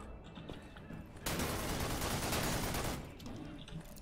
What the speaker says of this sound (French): Qui c'est qui tire?